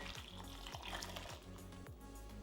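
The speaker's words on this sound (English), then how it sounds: "We're gonna pour it over our cranberries." Cooled simple syrup poured over cranberries gives a steady, close liquid trickle lasting a couple of seconds, quiet and without talk.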